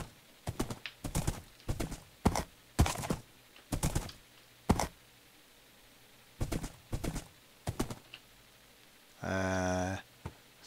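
Horse hooves clip-clopping in the Minecraft modpack Life in the Woods, sharp irregular clusters of steps close by, followed near the end by a brief whinny.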